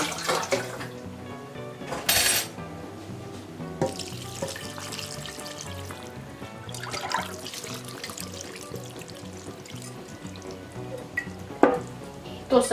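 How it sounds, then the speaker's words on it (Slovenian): Water is poured into a pot of sarma (stuffed cabbage rolls) in the pot used to fry the meat, a steady running splash lasting over twelve seconds with occasional clinks and no talk. "u šerpu gdje smo sad pržili meso, tu ćemo dodati vodu i nalijemo našu sarmu normalno"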